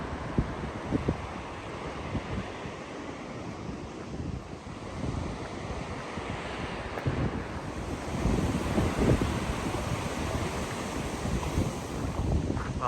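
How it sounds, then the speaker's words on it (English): Quiet ocean surf on the Northern California coast, a continuous soft wash of breaking waves mixed with wind rumble on the microphone, steady and moderately distant with a slight swell toward the end. "Really quiet surf."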